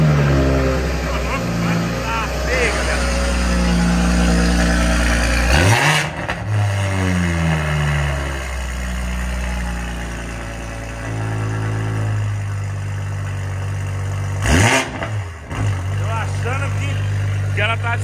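A car fitted with a Toyota Supra engine, warmed up, with a stage 2 tune, revs hard in repeated loud bursts that rise and fall, then settles back to a steady idle close by.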